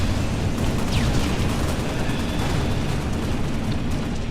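Gunfire and explosions from the Halo video game roar in a dense, continuous barrage, loud and close, with a steady rumbling wash of combat noise and no clear pauses.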